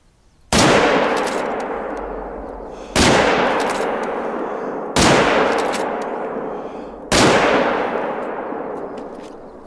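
Four loud rifle shots from theHunter: Call of the Wild, each a sharp crack that trails off into a long rolling echo, evenly spaced about two seconds apart with nothing else in between.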